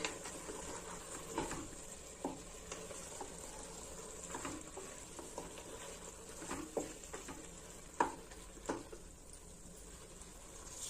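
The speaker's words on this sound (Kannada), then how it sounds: "ಇದು ಒಂದು 5 ನಿಮಿಷ ಫ್ರೈ ಆಗಲಿ ಎಲ್ಲಾನು" Mushrooms frying in a pan for biryani with yogurt, a soft continuous sizzle broken by scattered scraping taps and clacks of stirring, fairly quiet and close with no talk.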